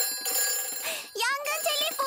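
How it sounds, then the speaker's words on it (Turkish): A fire station telephone in a Peppa Pig cartoon rings with a bright electronic trill that warbles repeatedly, while a character's voice overlaps the ringing. "Yangın telefonu çalıyor."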